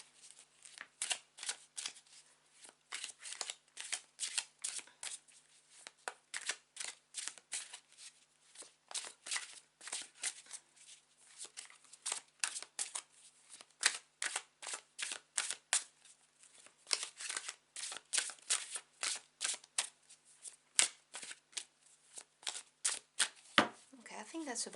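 Tarot cards being shuffled in a steady run of crisp, papery riffles and flicks that carry on for the whole stretch, close and fairly quiet, with a couple of sharper taps near the end.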